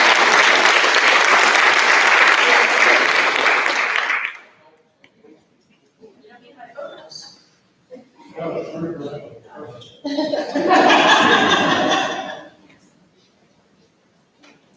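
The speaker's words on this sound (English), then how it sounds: "a round of applause for these" A school reunion crowd breaks into loud, dense applause that stops abruptly after four seconds, followed by scattered chuckles, murmured talk and a second short burst of clapping.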